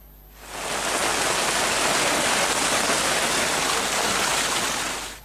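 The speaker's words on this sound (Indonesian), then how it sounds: "intensitas hujan sedang hingga lebat membuat sejumlah ruas di jalan Kota Makassar terkepung air hingga lutut orang dewasa" Heavy, steady rain pours down in Makassar, where moderate-to-heavy downpours have flooded city streets knee-deep; a dense, unbroken hiss rises quickly and holds at full strength with no voices.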